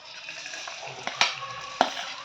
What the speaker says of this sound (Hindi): जैसे ये जीरा थोड़ा सा तड़तड़ होने लगता है